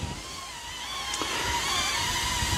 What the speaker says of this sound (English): So that is the noise of the DJI Neo 2.